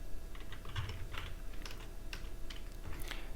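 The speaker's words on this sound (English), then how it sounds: "here we can start typing" Close computer keyboard typing in a steady run of quick, light key clicks, moderately faint and continuous with no voices.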